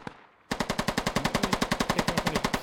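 A machine gun in the Squad video game fires one long, fast, evenly spaced burst of about twenty loud, close shots after a brief quiet start.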